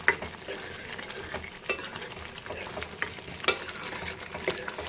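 White pumpkin halwa being stirred as it fries in oil in a pan, a steady soft sizzle broken by scraping stirs and occasional sharp clinks of a spoon against the pan, heard close and without talk.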